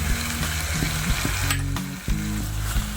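Spices frying in oil for moong dal, a loud close sizzle with repeated scraping stirs and clanks against the pan, no voices.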